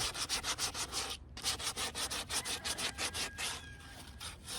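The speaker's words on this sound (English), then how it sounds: "I'm going to sand that down just a little bit." Rhythmic back-and-forth sanding on the sharp point of a Hoss wheel hoe, about twenty even rasping strokes with one short pause, close and steady.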